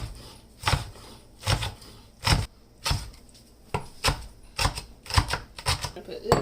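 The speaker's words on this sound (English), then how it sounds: "I'm just going to cut up the kimchi now." A knife chops kimchi on a cutting board in a run of sharp, fairly quiet thuds at an uneven pace, with small gaps between strokes.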